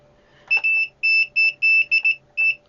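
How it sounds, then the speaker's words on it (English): A series of short, high electronic beeps, about eight, sounding in quick irregular bursts with a sharp tone, close by and alone, from a multimeter's continuity tester. "Well, that beeps clearly."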